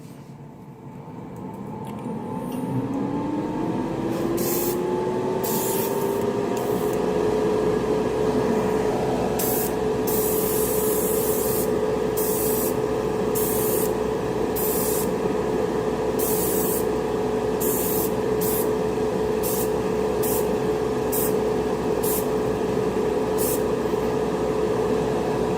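Workshop extractor fan runs steadily through an airbrush spraying session for an M48A3 Patton diorama, a rising whine settling into a constant hum with spray hiss bursting on and off above it.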